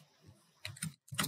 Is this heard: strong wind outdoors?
no